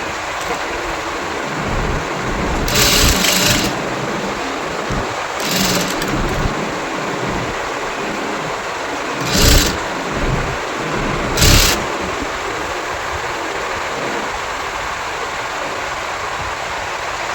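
A home sewing machine stitches a one-piece dress, its motor running in a steady, continuous whir for a long stretch, close and fairly loud, broken by a few brief louder bursts.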